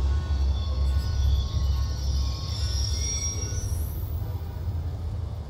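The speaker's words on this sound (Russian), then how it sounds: "ни черта не слышно поезд мешает" A train rumbles past in Call of Duty Black Ops 2, its steady heavy roar and clattering wheels filling the scene, with a high metallic squeal rising near the end; no voices.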